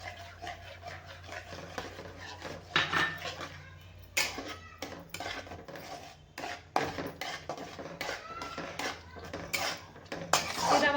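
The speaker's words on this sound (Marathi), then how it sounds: "रवा टाकून हलवून घ्यायचं आहे" Semolina is stirred into boiling milk in a metal pan, heard as quiet, irregular clinks and scrapes of a spoon against the pan over a faint low simmering hum.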